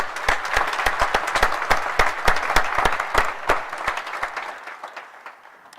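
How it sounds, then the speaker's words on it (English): Audience applause for a speaker at a medicine and health sciences graduation ceremony, loud and close, individual sharp claps standing out in a steady crowd clapping that tapers off near the end. "So let us give Dr. Machaba a round of applause for his challenges to us."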